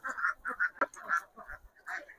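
Ducks kept in confinement on a duck farm quack repeatedly in a steady run of nasal calls, fairly close and moderately loud, with no talk over them.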